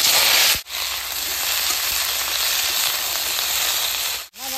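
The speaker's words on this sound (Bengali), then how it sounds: "জিরাটা বেশ সুন্দর পুড়ছে, সবজিটা আমি দিয়ে দিব।" Vegetables dropped into oil with sizzling cumin and spices make a steady, loud frying hiss that runs almost the whole time, broken by two brief quiet gaps.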